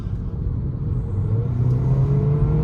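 Volkswagen Virtus car accelerating hard with the throttle floored, a steady loud engine rumble and whir that rises gradually in pitch, heard close and alone.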